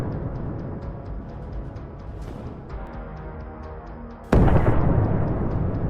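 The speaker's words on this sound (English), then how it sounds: "Artillery continues to hammer the immobilized targets, trying to destroy or disable them completely." Artillery fire and explosions pound immobilized armored vehicles stuck in a shell-cratered convoy, heavy rumbling booms with a sharp loud blast near the end.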